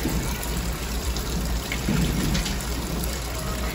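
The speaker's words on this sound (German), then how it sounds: "Das ist die musikalische Waschmaschine." A washing machine in Costa Rica runs with water, producing a steady rushing, sloshing wash with a low rumble, continuous and close, with no talk.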